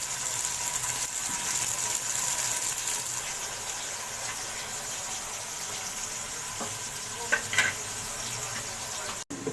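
Onions sizzle steadily in a pan while being browned, a constant hiss of frying with a few faint clicks and stirring scrapes near the end, no voices over it.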